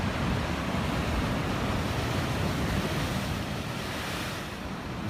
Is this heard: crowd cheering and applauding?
no